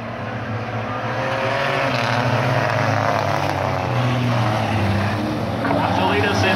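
Race cars running three wide into a turn roar together in a dense, continuous engine drone that stays loud throughout, heard under a commentator's excited voice.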